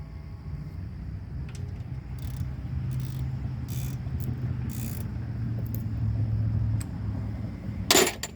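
Nuts are tightened on a log splitter with a ratchet, giving faint intermittent clicking bursts over a low background hum, ending in a sharper metallic clank.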